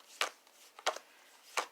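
A tarot deck being shuffled by hand, three short crisp riffling bursts of cards spaced roughly evenly, close and quiet with near silence between them.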